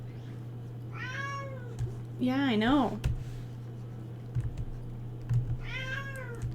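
A house cat meows insistently, three separate close meows with the middle one long and wavering. A person speaks briefly between them over a constant low hum.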